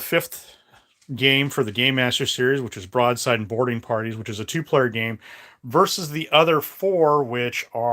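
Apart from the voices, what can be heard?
No distinct noise like a dog, phone or traffic.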